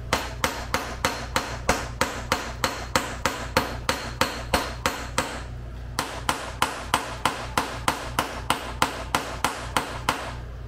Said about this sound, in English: I'm gonna use my ball peen hammer here